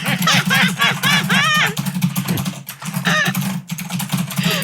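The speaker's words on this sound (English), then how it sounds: "will you give us a little bit of your typing?" Rapid, continuous clatter of computer keys being typed in busy bursts with brief pauses, over a low steady hum.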